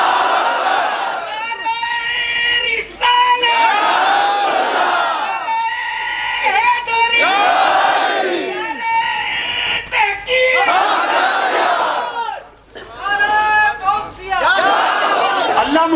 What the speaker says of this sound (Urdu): لگائیں نعرہ